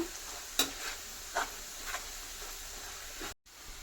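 Chicken pickle being mixed with oil in a pan gives a quiet, close sizzle with a few brief scraping stirs of a spoon, fairly faint, ending with a short silent gap.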